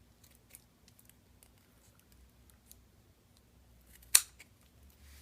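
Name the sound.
scissors snipping off tape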